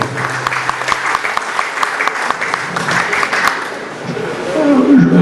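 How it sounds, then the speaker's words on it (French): Loud, sustained applause from a crowd at the launch of the Porsche centre in Tunisia, honouring Mr. Mosfajab, a dense wash of clapping with a few sharper claps that swells slightly near the end. "je vous demande de l'applaudir et le remercier pour nous avoir permis d'être avec vous"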